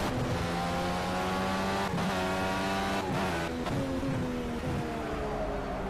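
IndyCar race car engine in Project CARS at Road America, a loud continuous high-pitched whine rising and falling through gear changes, heard close from the cockpit with no talking.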